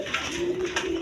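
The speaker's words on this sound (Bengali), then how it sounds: "কিং কবুতর একদম বিগ সাইজের" King pigeons, a big-sized breed, coo on a pigeon farm: one short, soft, low hum-like call, close and alone, with faint farm background.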